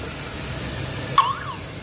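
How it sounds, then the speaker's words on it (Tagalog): A Suzuki SX4 car alarm gives one short, rising electronic chirp partway through, close by and alone over a low steady hum. "huminga yung kanyang alarm"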